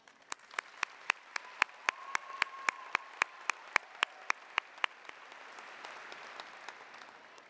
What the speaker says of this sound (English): I believe that calls for a huge round of applause